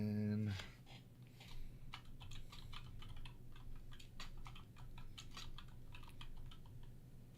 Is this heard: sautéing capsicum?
no